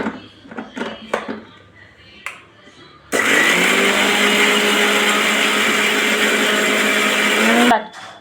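After some clatter and talk, a mixer grinder grinds cumin, fennel, poppy seeds and coconut for mutton kuzhambu, a loud steady whir lasting several seconds before cutting off abruptly.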